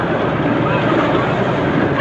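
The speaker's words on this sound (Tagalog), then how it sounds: "Ayan, nakalakas na naman ang hangin" Strong wind roars over a small fishing boat at sea, about fifteen miles offshore in rainy weather with growing waves, a steady, loud, close rush of wind and water with no break.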